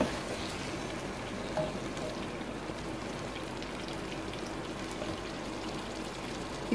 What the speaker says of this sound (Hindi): अब हमने अरबियाँ इसमें डाल के इनको हल्का सा इसमें भूनना है